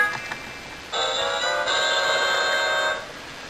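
A short tinny electronic melody from a duct-tape MP3 player plays for about two seconds, thin and slightly distorted like a small speaker, over faint background hiss.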